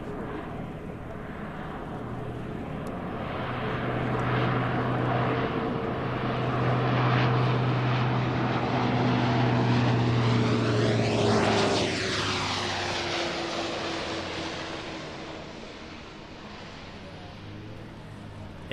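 Spartan propeller aircraft landing on runway 27, its engine drone swelling steadily as it passes close by with a clear pitch sweep, then fading gradually.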